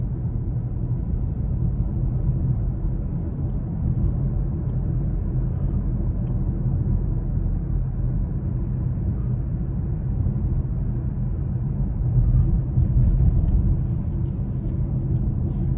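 Steady low rumble of tire and road noise fills the cabin of a 2021 Kia Sportage S AWD on the move, constant and even for the whole stretch with no talking.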